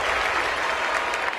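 Dense, steady crowd applause at a political gathering, loud and continuous throughout the brief moment with no break in the clapping.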